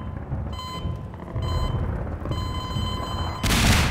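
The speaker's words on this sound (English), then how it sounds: "What's that beeping sound?" Repeated electronic beeping in the Half-Life 2 video game, a steady series of high tones pulsing over low rumbling game noise, followed by a sudden loud burst like an explosion near the end.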